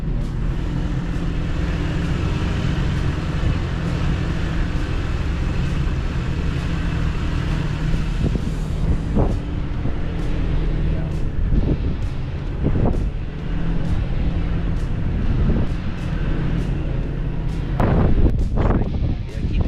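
Toyota Tacoma TRD with a 2-inch lift crawling over slickrock on the Hell's Revenge off-road trail in Moab, a steady low engine rumble with wind buffeting the microphone and occasional knocks and clunks from the suspension and tires.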